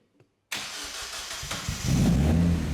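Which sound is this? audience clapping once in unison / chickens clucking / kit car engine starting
kit car engine starting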